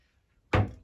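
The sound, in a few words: herbal cabinet door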